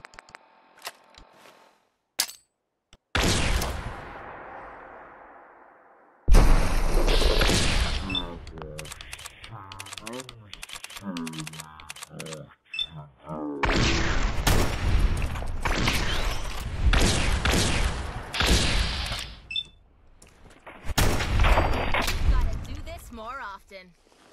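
Fallout 4 combat against a super mutant with cryo grenades and gunfire: sharp blasts and rapid shots in several loud bursts, separated by quieter gaps and game sounds.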